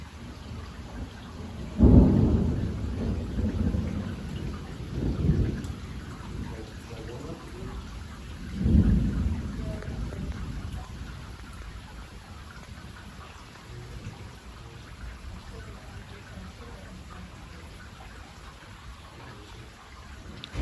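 Heavy rain pours steadily through a wet thunderstorm while three deep rumbles of thunder roll in during the first half, then the downpour carries on alone with a faint voice briefly audible.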